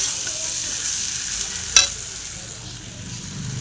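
Fried potatoes and spices are stirred together in a sizzling pan, a steady frying hiss with one sharp scrape of the spoon partway through.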